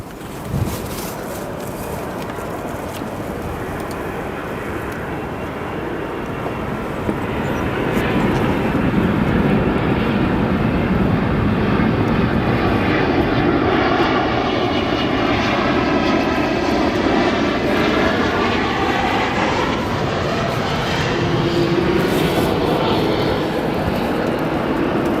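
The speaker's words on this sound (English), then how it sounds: "now we got Royal Jordanian 77-8 flight 263 coming in from" A Royal Jordanian Boeing 787-8 airliner arriving from Amman at Chicago O'Hare roars steadily overhead, a loud continuous jet rumble that swells after a few seconds and holds with a sweeping, shifting tone.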